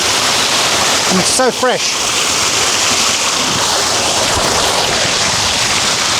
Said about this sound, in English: imagine having a piece of land with a waterfall like this